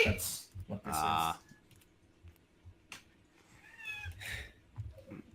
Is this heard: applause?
no